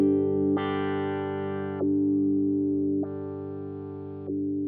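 Guitar through a Fractal processor with a square-wave LFO effect set to a very fast rate, giving sustained chords whose tone switches abruptly between a dull and a bright state in long blocks, loud and alone.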